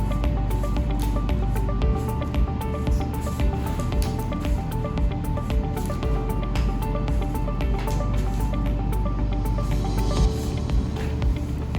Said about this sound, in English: make sure you mix in all the water